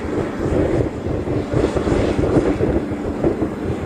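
A Hawaiian Airlines airliner just in from Hilo gives a steady, moderately loud jet-engine rumble with some wind buffeting on the microphone, continuous throughout with no speech.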